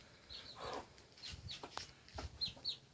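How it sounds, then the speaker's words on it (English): Free-range chickens and roosters cluck and call in an open farmyard, short scattered clucks and squawks at a moderate distance, faint overall with no speech. "These are the roosters."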